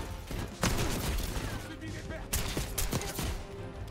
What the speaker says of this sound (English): Shotgun time.